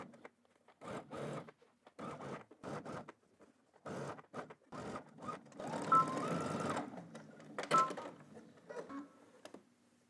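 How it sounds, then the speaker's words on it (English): A sewing machine stitches a sleeve seam into a utility jacket, several short quiet bursts of rapid stitching separated by pauses, followed by a longer run near the end. "we're gonna head to the machine and stitch all the way around using 5/8 of an inch seam allowance"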